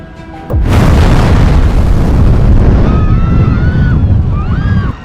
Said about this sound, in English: a loud explosion rocked the Boeing 747